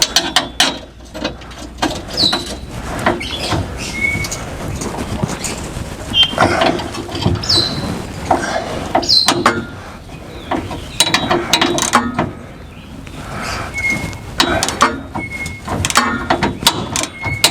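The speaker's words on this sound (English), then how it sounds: "next step, loosen those two bolts." A wrench loosening the towbar bolts on a truck, giving repeated ratcheting clicks and metallic clanks in irregular bursts, close and fairly loud, with shuffling and small knocks between them and no clear speech.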